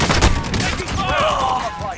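Bursts of gunfire in a Call of Duty: Modern Warfare match, a sharp volley up front followed by rattling shots and whooshing effects, with a game voice mixed in.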